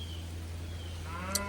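Cattle low in an open pasture, with a steady hum of wind or machinery underneath and a soft moo rising toward the end, set among a herd of cows waiting to calve or found open.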